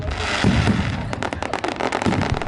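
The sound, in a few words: fireworks and firecrackers exploding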